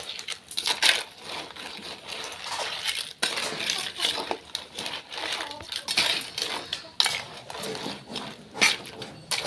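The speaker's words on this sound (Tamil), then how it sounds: "நண்டு சேர்த்தாச்சு. இப்போ நல்லா கிண்டி விட்டுடலாம்." A spoon stirs crab gravy in a metal pot, giving repeated scraping clinks and wet sloshing in an uneven rhythm, close and fairly loud, with a few sharper knocks against the pot's side.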